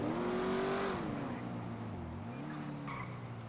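A car engine in a video game revs steadily with a sliding, shifting pitch and a faint squeal, heard fairly quietly and continuously throughout.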